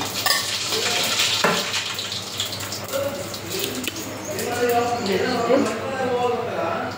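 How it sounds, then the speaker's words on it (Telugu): Hot oil crackles and sizzles steadily as spices fry, with bursts of spattering and a few clinks in a kitchen. "ఆయిల్ హీట్ అయిన తర్వాత దీనిలోకి పోపు దినుసులు"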